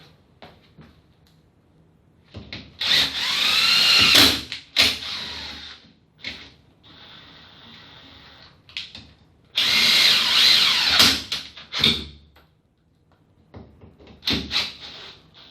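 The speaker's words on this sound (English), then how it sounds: "I'm screwing both sides of the jig to the actual door" A power drill drives screws into a door in two long bursts with shorter whirs between, fixing a jig for mortice lock fitting, punctuated by clicks and knocks of wood being handled nearby.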